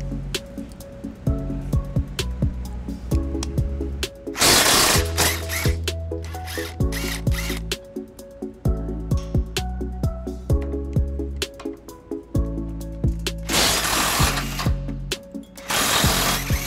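A ratchet wrench backs out the bolts on a 2007 Toyota Tundra during a front mount hitch install, giving loud, close, rapid clicking bursts separated by metallic clanks and short pauses, with no talking.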